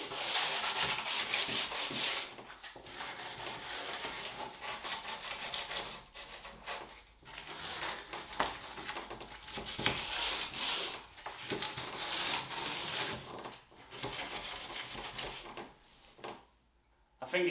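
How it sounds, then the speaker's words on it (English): Sanding by hand across a wooden panel gives a close, continuous rasping rub in quick back-and-forth strokes, with a few short pauses. "I've got to be careful not to sand the centre panel because my instinct will be to sand it."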